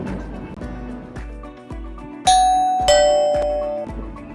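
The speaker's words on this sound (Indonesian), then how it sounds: "Di sini ada bel, nanti bisa digunakan oleh pasien untuk membantu pasien dalam memanggil perawat." A patient call bell in a hospital room gives a loud electronic ding-dong chime, two tones that ring out and slowly decay, following a few softer thumps, with no talking.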